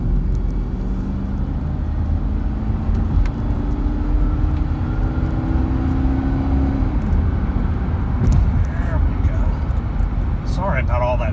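A 2004 Ford Expedition Eddie Bauer 2WD with a 5.4 Triton engine accelerates from 0 to 60, a loud, steady engine drone rising through the gears with road rumble and a brief shift dip, heard from inside the cabin while a person talks.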